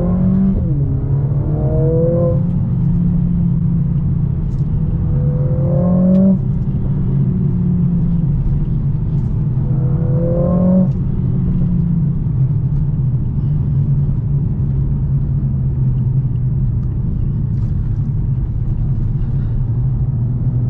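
A 2021 Mercedes-AMG CLA 45 Coupe engine heard from inside while driving: a steady low rumble with three distinct rising revs as the car accelerates through gears, each climbing then dropping back, no talking.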